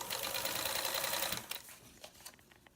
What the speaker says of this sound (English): Basically what you're doing here is you are just basting this on. So you want to keep very close to the edge.